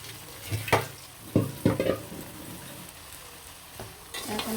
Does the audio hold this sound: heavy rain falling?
no